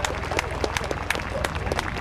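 An airshow crowd at Dayton applauds after a CV-22 Osprey demonstration, scattered clapping heard at a distance under a public-address voice.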